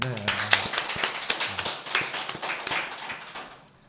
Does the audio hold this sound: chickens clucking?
no